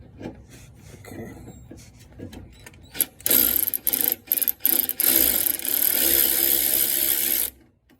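A ratchet with a 10 mm socket loosens bolts on the rear trailing arm of a 2002-06 Nissan Sentra, giving close, loud bursts of rasping clicks that start choppy and then run steadily for several seconds before stopping.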